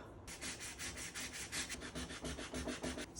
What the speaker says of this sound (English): So we are going to work that off with some sandpaper.